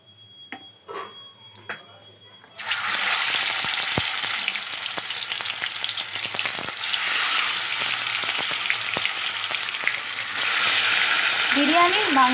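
Marinated chicken pieces for biryani drop into hot oil and sizzle loudly and steadily, a constant frying hiss with light clinks of a stirring utensil, after a quiet moment at the start.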